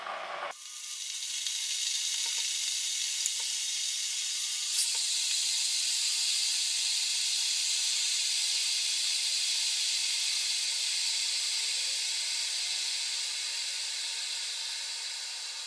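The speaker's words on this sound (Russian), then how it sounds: "1 литр вскипятил я в чайнике" An electric kettle drawing almost 2 kilowatts boils one litre of water, giving a steady, loud hiss that holds for about fifteen seconds with faint clicks and crackles. No one speaks.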